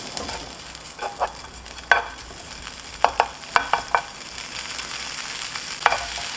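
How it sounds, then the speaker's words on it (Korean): Bacon frying in a pan for a Caesar salad, a constant sizzle broken by scattered sharp crackles and spits, close and fairly loud, with no speech. "그렇지 않으면 베이컨 구워주세요."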